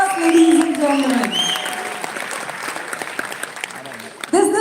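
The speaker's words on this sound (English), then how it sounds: "Let's give them a huge round of applause, ladies and gentlemen." An audience claps for Dollu Kunitha folk drummers at a corporate founders day event, applause fading gradually under a background voice before a brief louder burst near the end.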